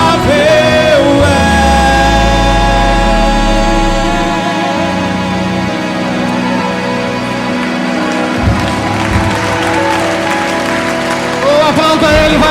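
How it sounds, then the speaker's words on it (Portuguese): A worship congregation claps along to a praise song, steady rhythmic applause under sustained music and a singing voice, loud and close throughout. "Oh, aplauda Ele, vai adorando Ele."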